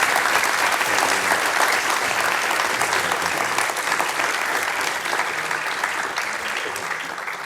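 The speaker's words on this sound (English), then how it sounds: "Everyone, a round of applause." Sustained audience applause fills the room after a founder's talk on overcoming adversity, a dense, steady wash of many hands clapping that holds strong throughout and fades only slightly toward the end.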